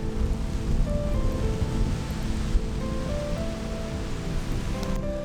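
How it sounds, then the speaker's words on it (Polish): Steady rain falls on Germany's longest suspension bridge, a dense continuous hiss with low rumbling wind, no voices. "Lepszy taki deszczyk."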